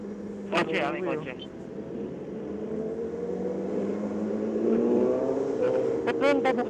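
A car passes by on a one-way road, its engine noise rising and swelling toward the end, heard under a rider's voices.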